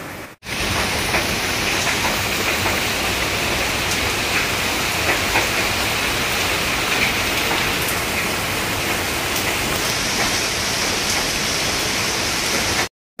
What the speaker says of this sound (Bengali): দেখতে দেখতে বৃষ্টি চলে এলো